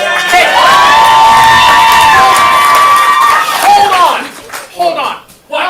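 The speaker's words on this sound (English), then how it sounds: "You got a big round of applause." A comedy theater audience at an improv comedy show cheers, whoops and claps loudly for several seconds, with shouting voices rising in the crowd, before the noise thins into scattered calls and a few voices near the end.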